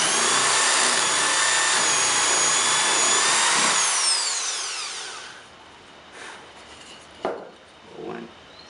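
A power drill bores a hole in a piece of wood that is not clamped in a vise, a loud steady whine lasting about five seconds before it winds down, followed by a few faint knocks and handling sounds.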